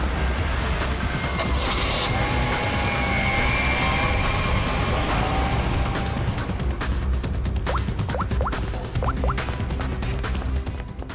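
A car pulls away as a suspect flees, its engine giving a steady, fairly loud rumble throughout. A few short squeaky chirps appear near the end.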